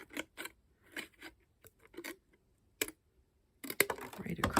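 Scissors cut journal paper in a quiet room, making a few sparse, close snips with pauses between them, then a denser burst of crisp cutting and rustling at the end.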